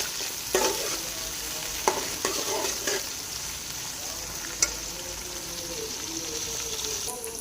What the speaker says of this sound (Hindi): प्याज को हम ब्राउन करेंगे